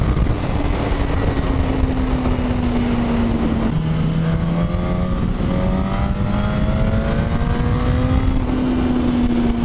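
Suzuki GSX-S1000 motorcycle pulling hard in fourth gear, a loud, close engine drone rising steadily in pitch, with a brief dip partway through before it climbs again, heard alone without talk.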